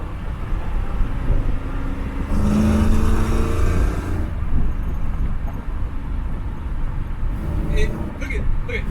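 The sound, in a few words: car with ACES EFI engine driving at speed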